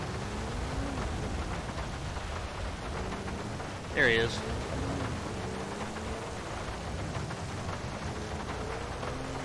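Steady rain hisses throughout a rainy scene in the police game GTA V LSPDFR, with low thunder underneath, a brief sharper sound midway and someone talking.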